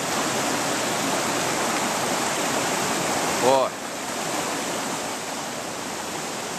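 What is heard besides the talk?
rushing river current, rising water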